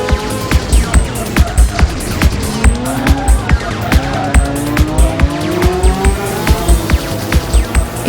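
Motorcycles race in the PS2 game MotoGP sequel, with loud, continuous engine whine whose pitch keeps climbing and dropping through gear changes, over a steady rhythmic thumping backing beat.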